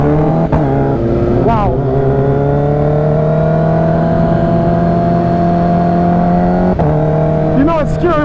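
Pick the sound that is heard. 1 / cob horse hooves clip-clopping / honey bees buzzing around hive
1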